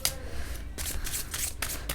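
Tarot cards being shuffled and drawn by hand, giving a few soft papery riffles and slides in quick bursts, close and fairly quiet, with no talking.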